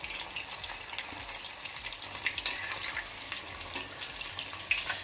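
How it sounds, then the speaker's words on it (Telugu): Cheese balls frying in hot oil, a steady close bubbling sizzle with scattered crackles and light pops throughout. "మనం ఇలాగా మన చీజ్ బాల్స్ వేసుకుందాం"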